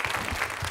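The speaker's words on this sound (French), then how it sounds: "Je vous demande maintenant d'applaudir" Audience applause at a televised gala, a brief burst of many hands clapping in a dense, steady patter that carries on throughout.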